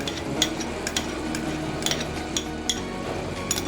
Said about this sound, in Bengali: এরপর আমরা এটাকে ভালোভাবে নাড়াচাড়া করে নেব।